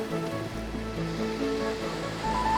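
Surf washes steadily onto a seashore at dusk in India, where poor fishermen cast nets from the beach; a continuous low rumble of breaking waves with a steady hiss, moderately near, no voices.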